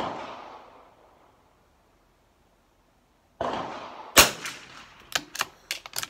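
A Lakefield 91TR rifle fired at a shooting range: one sharp, loud crack followed by several smaller sharp impacts and clatter, after a quiet stretch with a fading rushing sound.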